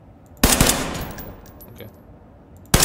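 Two loud single rifle shots in Ready or Not, one early and one at the very end, each a sharp broadband crack with a ringing decay between them; no talk.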